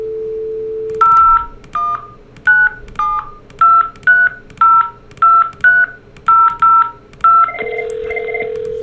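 Telephone keypad dialing from a second site on a Cisco collaboration lab phone system: a steady dial tone, then roughly a dozen crisp DTMF key beeps in an even rhythm, followed by a repeating call-progress tone.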